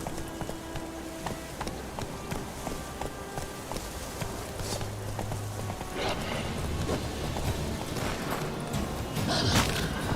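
Horse hooves clip-clop at a galloping pace in a video game as Roach the horse is urged faster, a steady near rhythm of hoofbeats over ambient game sound.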